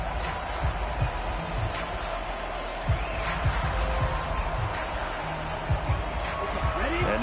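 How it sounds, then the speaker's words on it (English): Stadium crowd noise in an American football video game on PS4, a steady roar with scattered thumps and claps underneath, sustained throughout at a moderate level. "That just means this crowd's going to get even louder"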